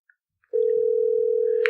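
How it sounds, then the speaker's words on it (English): A phone ringtone starting abruptly as a loud, steady electronic tone that holds evenly, with a brief higher blip at the end and near silence before it. "Even his ringtone's hot."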